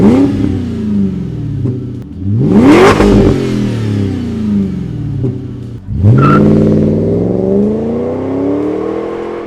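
A Noble M600 supercar with a Yamaha-built engine revving hard, loud and close, with two sharp climbing revs and falling engine whine between them, no talking.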